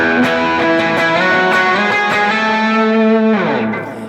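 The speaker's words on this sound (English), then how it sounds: "the guitar with lots of distortion" A Fender Thinline Telecaster Deluxe semi-hollow electric guitar with noiseless pickups is played through heavy distortion: loud sustained chords with a few choppy strums, ending on a ringing chord that fades.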